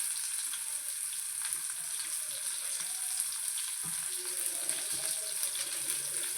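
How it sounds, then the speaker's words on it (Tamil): Steady, bright sizzling of onions frying in hot oil, a constant hiss with faint stirring clinks, fairly close and continuous throughout. "வெங்காயம் போட்டுட்டு வதக்கிக்கலாம்"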